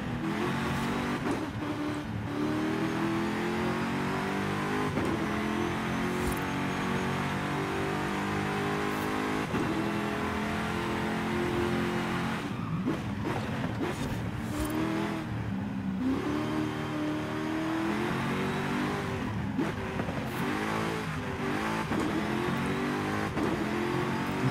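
Car engine revving hard and steadily in Forza Horizon 5, with rising and falling harmonic engine tones and gear-change dips throughout, loud and continuous with no talk.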